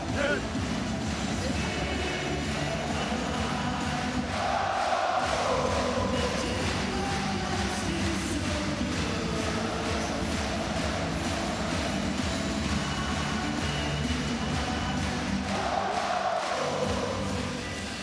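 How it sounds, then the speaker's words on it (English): A packed handball arena crowd at the VELUX EHF Final4 third-place match between Telekom Veszprém and FC Barcelona Lassa keeps up a loud, steady roar and cheer throughout, with voices carrying over the din. "the crowd are certainly enjoying themselves today"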